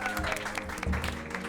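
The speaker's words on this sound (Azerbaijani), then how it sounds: "Böyük bir alqış, ürəkdən alqış." Audience at a televised comedy show applauds, a dense patter of hand claps with a brief voice mixed in, steady and moderately loud throughout.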